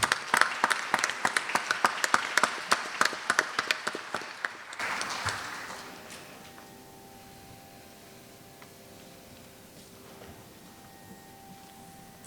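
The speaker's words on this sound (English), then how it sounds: "Please give another round of applause for Srimati Vibha Harikar." Audience at an Indian classical dance arangetram recital claps in a lively, rhythmic burst for about five seconds, then the applause fades into a near-silent hall with a faint steady hum.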